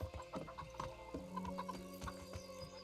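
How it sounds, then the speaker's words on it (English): Horse in the medieval video game Kingdom Come: Deliverance, with soft hoof clops and a brief snort over steady ambient game music, fairly faint and close. "there's his horse, I suspect."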